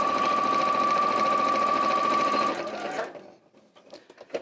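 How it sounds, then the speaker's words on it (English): A domestic sewing machine stitching around an appliqué runs at a steady, loud whir with a high motor whine for about two and a half seconds, then slows and stops, leaving faint handling clicks. "Now while I'm here, I'm going to just stitch around the applique"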